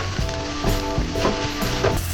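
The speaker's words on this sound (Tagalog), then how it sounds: "Magluto ng itlog saka na fried rice" Eggs and fried rice frying in a pan, a steady close sizzle with soft scraping or stirring accents every half second or so.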